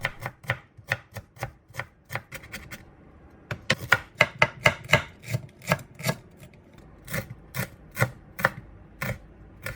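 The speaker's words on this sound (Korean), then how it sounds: "양파 하나, 파 한 줄기도 잘게 다져주세요." Knife chopping onion and green onion on a cutting board, a quick run of sharp taps, then a pause and faster, irregular bursts of chopping, close and fairly quiet, with no voices.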